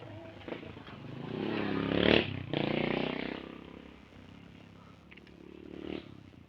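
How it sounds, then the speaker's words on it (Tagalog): Motorcycles climbing a steep road pass one after another, engines swelling as they strain uphill and fading again, a strained rising rev in the middle, heard from the roadside at moderate distance. "So, may mga motor na dumadaan. Mukhang hirap umakyat dahil matarik."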